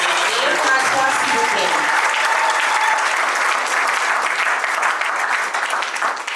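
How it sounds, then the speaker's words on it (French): Steady applause fills a civil wedding ceremony before the mayor, holding from start to finish with a few voices mixed into the clapping. "Avec nos acclamations."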